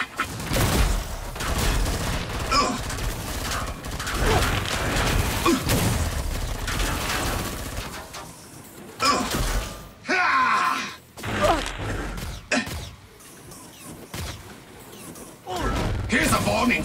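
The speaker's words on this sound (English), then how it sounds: "I shall just shoot you." Boss gunfire in Killing Floor 2 on Hell on Earth difficulty, dense sustained bursts of shots with mechanical clatter that later break into short separate volleys, loud under the boss's taunting voice.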